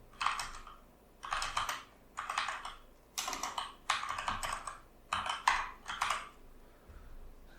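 A name being typed on a computer keyboard in quick bursts of clicky keystrokes, several separate runs broken by short pauses, close and clear with no voices.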